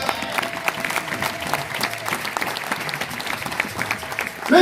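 A church congregation applauds steadily and loudly throughout, dense clapping from a crowd with a few voices mixed in, swelling slightly at the very end.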